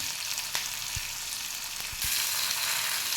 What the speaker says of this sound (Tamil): நறுக்கி வச்ச சின்ன வெங்காயத்தையும் பூண்டையும் சேர்த்துடலாம். இது நல்லா வதங்கட்டும்